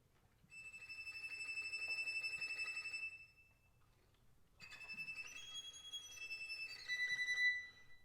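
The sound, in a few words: violin imitating the sound of a penguin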